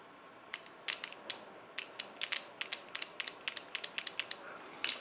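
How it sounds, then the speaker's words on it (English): Sharp, dry mechanical clicks of a 1984 Corvette EGR valve solenoid repeat in irregular bursts, some close together and others spaced apart, fairly quiet against a faint background hiss. "It's a solenoid. So, and then you take the other one, touch the other side. You should hear a click."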